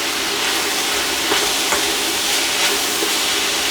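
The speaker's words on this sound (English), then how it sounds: "let's cook up this minced meat first and then we can spice it up" Minced beef fries in a hot pan with a loud, continuous sizzle and hiss, punctuated by faint scraping from stirring.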